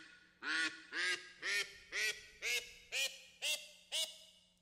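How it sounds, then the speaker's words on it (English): Eight evenly spaced synthetic duck quacks from the Polypad music tool, loud and clear, repeating at a steady rhythm over a faint background hum. "Let's listen to a duck."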